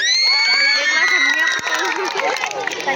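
An audience cheers at the prize announcement of a drawing competition, with loud, close shouting and children's high voices whooping together in one continuous burst.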